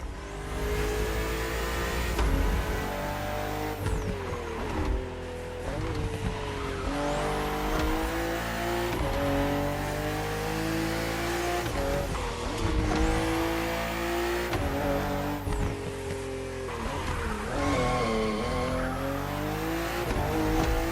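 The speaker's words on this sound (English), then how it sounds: "we put you behind the wheel of the fastest production car BMW has ever made, the M4 CSL" A BMW M4 CSL racing in The Crew Motorfest, its engine revving loud and close and climbing through the gears, with repeated sharp upshifts, tire squeals and skids on the corners.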